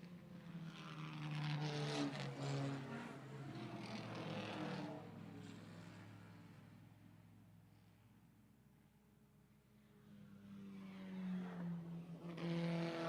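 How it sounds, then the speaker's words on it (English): Three Indy race cars run three wide into turn one at Lime Rock Park, their engines a distant, faint drone that swells, fades and builds again as they pass. "Some great sounds from those 3 Indy cars as they head down into turn number 1 in 3 wide formation"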